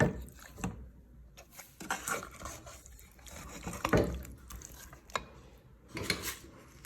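Spoon scrapes and clinks in a pot while blended ingredients and seasoning are stirred together for a Ghanaian chicken stew, a series of short uneven knocks and scrapes, close and fairly quiet.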